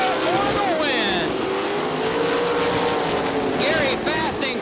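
410 sprint cars racing at Crystal Motor Speedway in Crystal, Michigan, engines roaring loudly and continuously as cars pass close by, with rising and falling pitch sweeps and an announcer speaking over the din.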